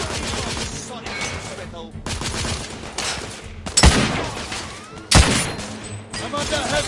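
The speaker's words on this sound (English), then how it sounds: "I'm under heavy fire." Rapid gunfire in the video game The Order 1886, dense bursts of shots with loud sharp cracks, combat noise continuous and close amid occasional voices.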